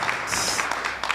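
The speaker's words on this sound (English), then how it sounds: "Another round of applause for our panelists." Steady applause from a conference audience for a panel at a quality improvement leadership forum, a dense, even wash of clapping filling the room with a few sharper individual claps standing out.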